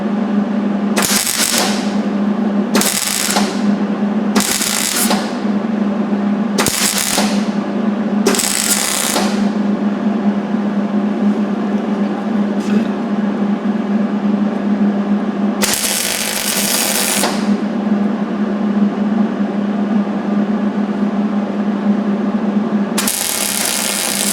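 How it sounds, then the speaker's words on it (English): Welding on the kickstand of a 2022 KLR 650 motorcycle: several separate bursts of harsh, crackling arc noise, each a second or two long, then a longer burst near the end, over a steady background hum with no talking. "I'm going to fill it up with weld"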